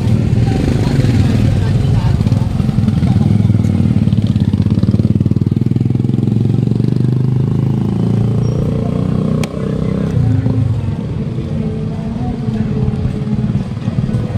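Motorcycles rumble loudly and steadily nearby on a path at a flooded fish port in Malabon, with a voice talking over the continuous drone.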